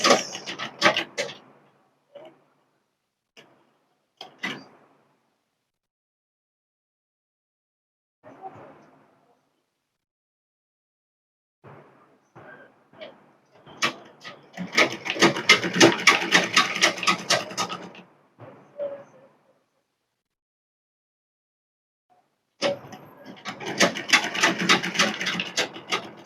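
A sewing machine stitches a bias bound seam in bursts. There are a few short runs early on and two longer steady runs of rapid stitching later, with quiet handling noises in the gaps.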